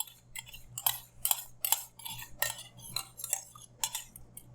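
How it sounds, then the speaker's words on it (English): A utensil stirs a creamy sauce in a pan, making quiet, irregular clinks and scrapes against the metal in a loose rhythm. "If we really, really mix it in here"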